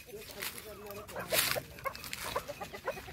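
Native village chickens cluck in short bursts with a reversed-feather rooster among them in Achara, under a person talking nearby.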